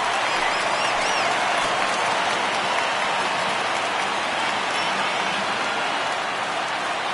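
A ballpark crowd at a baseball game between the Yankees and Dodgers rises and cheers on a full 3-2 count, a steady broad roar of many voices that holds loud and even throughout with no speech.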